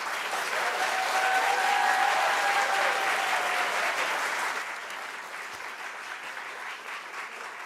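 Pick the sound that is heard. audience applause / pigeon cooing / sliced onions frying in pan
audience applause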